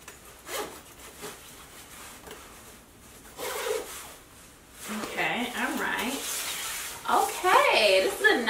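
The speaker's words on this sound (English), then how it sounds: "Okay, let me zip it up." A winter coat's zipper is drawn up in several rasping strokes, close and fairly loud, between brief rustles of the fabric, with a voice talking over parts of it.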